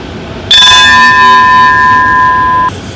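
A metal bell in Ayutthaya, Thailand is struck once, giving a loud close clang that rings on as a sustained, pure humming tone for about two seconds before cutting off abruptly, over light outdoor background noise.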